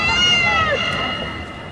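The giant 3D cat billboard in Japan gives out a long, drawn-out meow that slides in pitch, loud and prominent over a busy street background.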